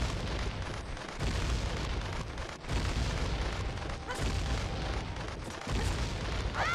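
Exploding Kukos burst in a Zelda Tingle of Time randomizer game, a series of dull booms and rumbling blasts recurring at intervals against constant game noise.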